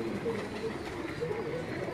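Soft, repeated cooing from pet pigeons at a keeper's yard in Rawalpindi, fairly faint beneath a steady wash of background noise.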